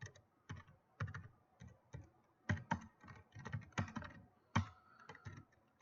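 Keys clatter on a computer keyboard in quick, uneven bursts of close, fairly quiet clicks with short pauses between them.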